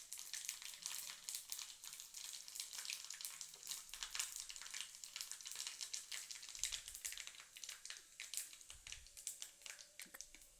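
Mustard seeds, cumin and fenugreek crackle and sizzle steadily in hot oil, with dense popping that stays fairly even throughout, close by and moderately loud.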